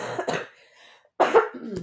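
A couple of close coughs, a short burst followed by a pause, then a louder harsher cough with a trailing throat rasp.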